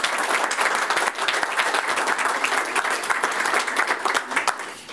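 Applause from the audience at a press conference, a sustained, even roar of many people clapping for several seconds, fairly loud and continuous with sharp individual claps poking through.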